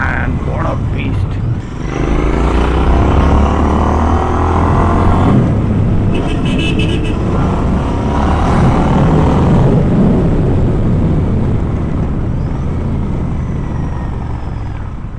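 Royal Enfield Interceptor motorcycle engine running steadily close by, a continuous low throbbing rumble with broadband wind roar over it, holding at a fairly constant level throughout.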